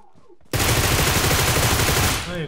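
Sustained automatic gunfire from a PUBG Mobile match erupts abruptly and stays loud and dense for about two seconds with a rapid pulsing rhythm, then cuts off.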